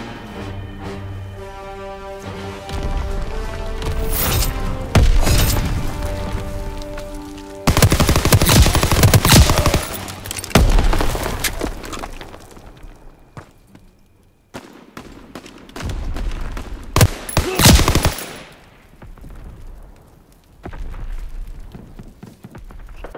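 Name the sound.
gunfire in Call of Duty WWII video game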